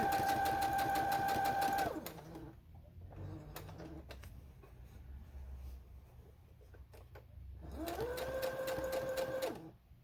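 Sewing machine stitching fabric, a steady high mechanical whir running for about two seconds, a pause filled with faint handling clicks, then a second stitching run, close and moderately quiet.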